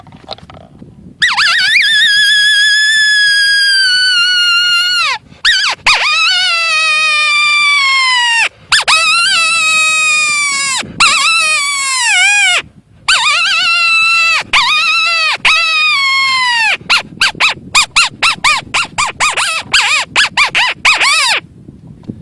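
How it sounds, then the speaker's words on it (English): A miniature pup distress and mini howler predator call sound a series of loud, close, high whining yelps and howls that slide down in pitch, ending in rapid choppy yips, with no talk. "this is the miniature Pup Distress and mini howler."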